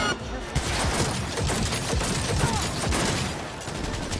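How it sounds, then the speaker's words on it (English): Rapid bursts of gunfire from the video game Cyberpunk 2077 rattle continuously at moderate level, overlapping into a dense fusillade with faint voices underneath. "I was in the middle of shooting someone"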